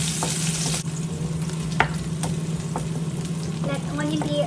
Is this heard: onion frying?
yes